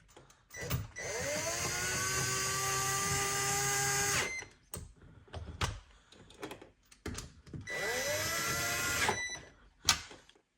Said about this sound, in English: I've tightened them and snugged them with the drill